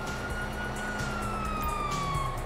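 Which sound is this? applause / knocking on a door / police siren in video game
police siren in video game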